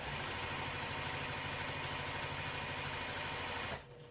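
A sewing machine stitches fabric for a garment in a steady, rapid mechanical whir with a fine repeating rhythm, loud and close, stopping abruptly near the end.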